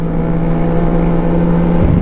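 A Kawasaki Versys 1000 SE motorcycle fitted with an Arrow touring exhaust runs close by with a loud, steady engine drone, then lifts slightly in pitch just before the end.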